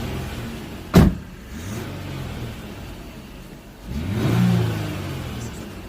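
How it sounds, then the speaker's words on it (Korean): An SM7 car engine revs close by as the accelerator is pressed, first a short blip and then a longer, swelling rev that settles back down. "몇 악셀을 어, 한번 밟아줘요."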